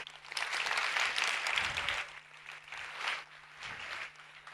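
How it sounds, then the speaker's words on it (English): Warm applause from an audience welcoming a keynote speaker on gender equality and women's rights, a fairly quiet burst of many hands clapping that swells, eases, rises again briefly and then fades. "let's give her a warm round of applause"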